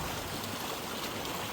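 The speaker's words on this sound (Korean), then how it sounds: "지금 물 흐르는 거 보이시죠?" Rainwater runs after a heavy downpour, a steady broadband rush and gurgle of flowing water that holds at even loudness throughout.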